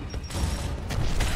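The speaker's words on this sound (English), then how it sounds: "Throwing frag!" A frag grenade goes off in the Gears of War video game, a loud, dense low rumbling blast that fills the short moment with a continuous boom and debris-like crackle.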